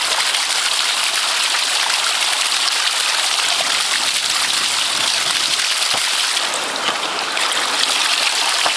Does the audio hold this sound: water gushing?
yes